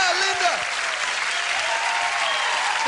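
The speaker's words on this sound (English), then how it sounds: "Big round of applause for Linda." Audience applause at a corporate comedy show as a volunteer is called up to the stage, a loud, dense, steady burst of clapping heard close and alone.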